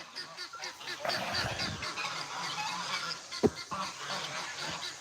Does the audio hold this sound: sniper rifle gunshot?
no